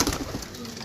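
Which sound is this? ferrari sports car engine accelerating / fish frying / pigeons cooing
pigeons cooing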